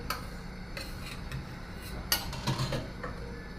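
A metal lid set partially over a pot of cooking red rice congee, giving a few light clinks and taps of metal against the rim, close and fairly faint, with a quiet kitchen background.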